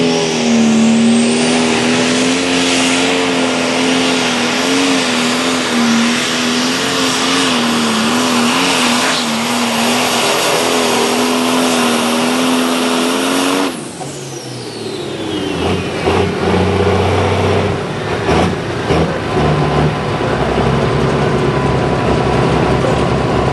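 A 600 diesel tractor screams at full revs during a night tractor pull at Shippensburg, PA, a loud sustained howl that cuts off partway through and leaves a rougher, lower rumble.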